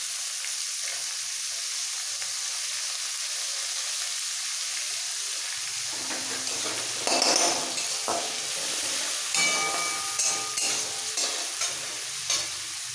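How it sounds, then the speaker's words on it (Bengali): Carrots and beans sizzle in hot oil in a pan, a dense steady hiss with stirring scrapes and clatters breaking in during the second half; nobody speaks. "এই তেলের মধ্যে হালকা ভেজে সঙ্গে সঙ্গে দিয়ে দিতে হবে সবজিগুলো সবজির মধ্যে গাজর বিনসটা আগে দিয়ে দিচ্ছি"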